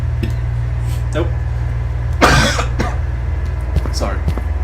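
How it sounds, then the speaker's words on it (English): A single sharp cough breaks out midway over a low steady engine hum, with a few faint throat sounds around it. "Trying not to cough is hard."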